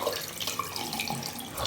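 Water runs steadily from a tap or shower in a cartoon bathroom, a continuous close splashing hiss with no talk over it.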